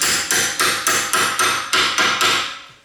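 Hammer repeatedly striking a metal socket while replacing a rear shock absorber on a Toyota Corolla: about nine sharp, ringing metallic blows in a steady rhythm, loud and close, each decaying quickly.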